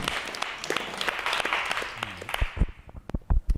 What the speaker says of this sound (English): a big hand clap for Brian